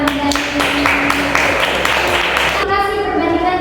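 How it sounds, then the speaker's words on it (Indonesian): Classroom applause for a student, a short burst of many hands clapping nearby that runs steadily for a few seconds, then cuts off. "Oke, tepuk tangan untuk Hamdani."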